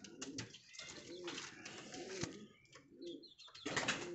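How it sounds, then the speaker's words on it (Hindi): A high-flying breed pigeon coos in a soft, repeated rhythm, several low throaty phrases at close range with faint rustling between them and no talk. "ये देखें गगनचुम्बी कबूतर है ये"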